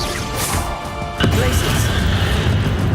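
A Bombarda spell explosion in Hogwarts Legacy, a sudden loud crash and burst partway through, followed by a rumbling roar that carries on to the end, with a voice talking before it.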